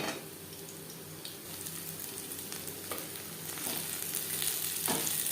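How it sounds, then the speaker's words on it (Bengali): A green chili fries in oil with a steady hissing sizzle that grows slightly louder, punctuated by occasional spatters and stirring scrapes. "আবারও তেল দিয়েছি একটা লঙ্কা ভেজে নেব"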